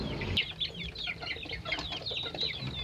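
A rooster clucks in soft, rapid chatter at some distance, a faint run of short calls over low background rumble.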